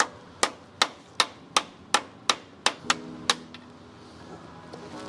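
A hammer strikes metal on a 1971 car engine with a possible LS swap, nine evenly spaced sharp clanks in a steady rhythm, then quiet.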